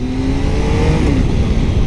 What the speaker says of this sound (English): I think it's a bit of a mixture between exhaust and engine, however it does sound really nice still